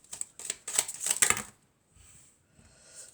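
Tarot cards being shuffled, a series of quick crisp riffles and slaps for about a second and a half, then near silence with faint handling sounds.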